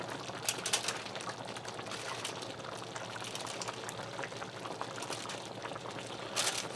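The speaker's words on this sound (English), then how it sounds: "I'm going to allow this to simmer for a few minutes" Salisbury steaks and potatoes simmering in gravy in a skillet make a continuous bubbling, popping burble at moderate level, with a few sharper pops near the start and end.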